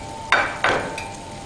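Toasted flour being stirred into melted butter in a pan, heard as two close, short scraping strokes about a third of a second apart, then a fainter third touch, with no talk.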